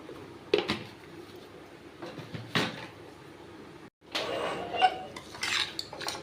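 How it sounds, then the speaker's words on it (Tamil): Sweetcorn pulao ingredients with rice, water and salt being stirred in a pot, soft scraping and clinking of a utensil against metal in irregular strokes, a brief pause midway, then busier stirring. "எல்லாத்தையும் ஒரு தடவை மிக்ஸ் பண்ணிக்கலாம்."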